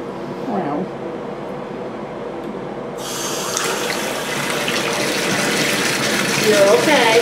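Running water gushes from a tap as a grimy kitten named Lilly gets her first bath, starting abruptly partway through and continuing steadily; voices talk over it and a person imitates meowing.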